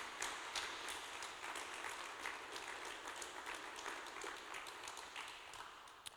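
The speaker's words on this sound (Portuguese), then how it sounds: "Uma salva de palmas para Jesus." A church congregation at a Thursday service applauds in a steady patter of many hands, fairly distant and soft, keeping an even level throughout.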